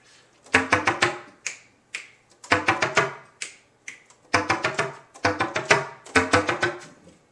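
Sharp slap-tongue clicks on a bass clarinet come close and loud in quick bursts of four to six percussive pops, separated by short pauses.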